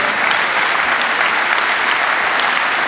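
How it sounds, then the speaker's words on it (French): Audience applause for members of an association's board at a community event in Algrange, France: dense, steady clapping from a crowd, loud and continuous throughout with no voices standing out. "Vous pouvez les applaudir."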